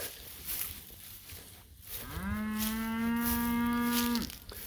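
A cow on a farm pasture going into winter lets out one long, loud, close moo lasting about two seconds, with a steady harmonic tone that ends abruptly, over faint outdoor background noise.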